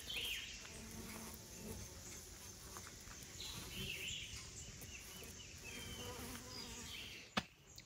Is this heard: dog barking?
no